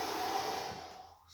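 One long, soft exhale during a yoga lunge exercise, a breathy rush that fades out over about a second, close and quiet.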